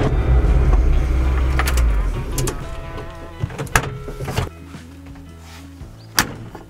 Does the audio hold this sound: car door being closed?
yes